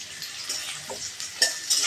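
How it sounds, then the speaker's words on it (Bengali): Round potato slices frying in a pan: a soft, close sizzle with a few scraping stirs and light metallic clinks over a brief stretch. "গোল গোল আলু ভাজা"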